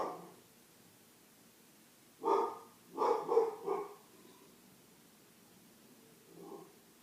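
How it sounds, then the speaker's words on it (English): A dog barks indoors at some distance: one bark, then a quick cluster of three, and later a single fainter bark, with quiet room hiss between. "My dog's barking."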